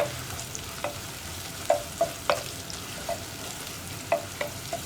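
Sliced onions fry in hot oil for Malabar ghee rice, a soft steady sizzle broken by several sharp clicks and taps of a spoon against the pan, close and alone with no talk.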